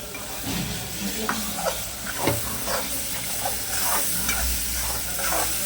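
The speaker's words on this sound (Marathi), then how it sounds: "थोडंसं भाजून घेतलं पाहिजे हे दुसरं वाटण आहे" Fresh coconut paste being stirred and roasted in a pan, with a continuous sizzling hiss and repeated soft scraping strokes of the spoon, close and steady throughout.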